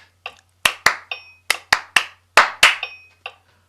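Several sharp hand claps, close and loud, in uneven pairs and clusters with brief gaps, each one crisp and quickly decaying against a quiet background, with no voices.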